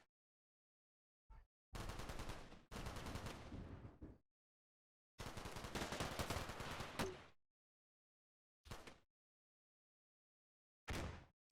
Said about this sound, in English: Small arms fire is not a problem.